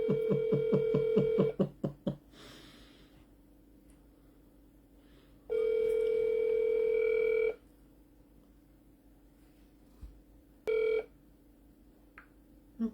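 A phone places an outgoing call: a quick run of keypad dial tones opens, then a steady electronic ringback tone sounds for about two seconds, with a brief tone blip later. There is quiet between the tones and no talking.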